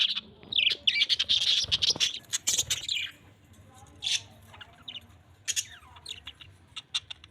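Two green parrots in a cage squawk and chirp close by, with bursts of shrill calls, sharp squawks and quick tweets in irregular clusters and brief pauses between them.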